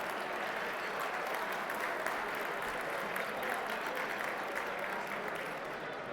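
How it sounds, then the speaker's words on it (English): Applause at an awards gala held at the Infinity Convention Center, an even, continuous patter of many hands heard from some distance, fairly soft but unbroken throughout, with no voices rising above it. "a big round of applause for the Infinity Convention Center, for this incredible food, the incredible service we've been enjoying all night long"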